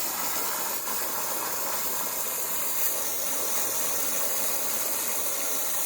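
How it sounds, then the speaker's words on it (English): A spinning pool filter cleaning tool sprays dirt out of the filter, heard as a steady, loud, broadband hiss and rush of water that stays even throughout, without speech. "So we're going to get that thing spinning, and it just spits out all the dirt."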